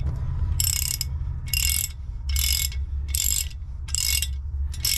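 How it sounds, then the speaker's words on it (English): Ratchet tightening plugs on a MerCruiser exhaust manifold, six loud bursts of rapid clicking in an even rhythm with short pauses between, close up over a low hum. "and then you could go ahead and tighten them up."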